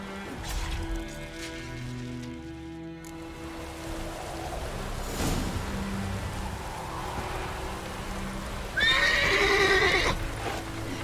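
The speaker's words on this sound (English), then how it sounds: "I'll ready our horses." A horse whinnies near the end of a Witcher 3 game scene, a short high neigh over hoof clip-clop and a steady ambient rumble with rain-like background noise.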